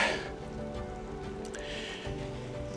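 Steady rain falling outdoors by a riverbank during a fishing trip, a continuous close hiss of drops on surfaces with no talk over it.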